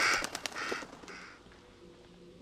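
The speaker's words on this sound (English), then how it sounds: "Or a crow, something like that." Several harsh crow caws ring out in quick succession in the horror video game Little Hope, fairly faint, then fade into quiet ambience.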